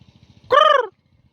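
A pet parrot imitates a crow, giving one short, loud, harsh caw close to the listener, with soft low thumping before and after.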